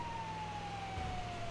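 Box ambulance siren in a Lucid City roleplay video game, a single faint steady wail gliding slowly downward in pitch, with low engine rumble underneath.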